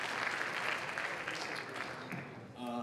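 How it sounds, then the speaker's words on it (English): Audience applause for a student team called up at a hackathon closing ceremony, a dense steady roar of many hands that fades near the end as a voice begins. "Give them a huge round of applause, everybody."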